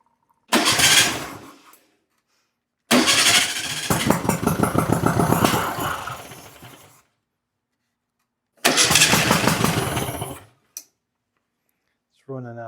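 An old VW Beetle engine fires and runs in three separate bursts, loud and close, with a rough, uneven chugging idle that dies out between attempts and a rising rev in the longest run.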